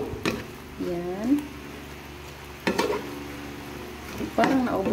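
Malabar spinach and meat stirred in a pan, producing scraping, sizzling bursts in three rounds, with a speaking voice over the stirring.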